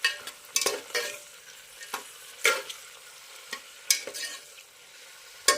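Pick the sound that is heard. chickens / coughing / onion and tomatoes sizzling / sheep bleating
onion and tomatoes sizzling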